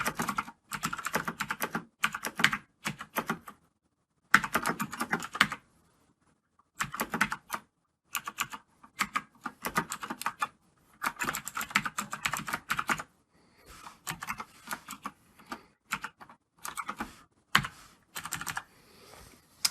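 Someone types code on a computer keyboard in quick, irregular bursts of close, crisp key clicks, broken by short silent pauses; no voices.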